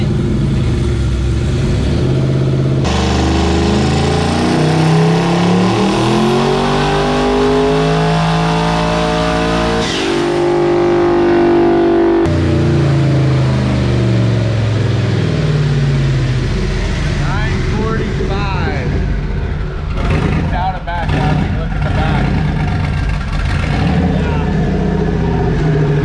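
A stock HEMI V8 engine pulled from a junkyard roars under heavy load, revving hard and loud with rising and falling pitch sweeps, a brief cut in the middle, then ragged bursts near the end.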